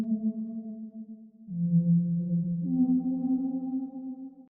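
Synth accent notes processed with Fruity Delay 3 and reverb in FL Studio for an Afro swing beat, three sustained tonal notes stepping in pitch with smooth echoing tails, clear and alone.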